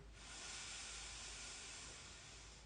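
A long, steady exhale through the mouth, like blowing on hot tea, forms a soft, close airy hiss that holds evenly for the whole stretch, with no words over it.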